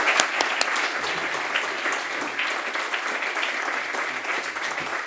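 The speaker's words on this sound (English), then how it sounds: "could you all please join me in a final thank you and round of applause" A conference audience gives a sustained round of applause, dense clapping from many hands throughout, fairly close and even in loudness.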